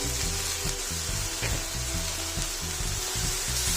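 Half a kilo of tomato paste fries with onions in a pan for Punjabi rajma masala, making a loud, continuous close sizzle with rhythmic pulsing as the mixture bubbles and is stirred.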